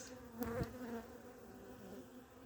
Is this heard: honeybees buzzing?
yes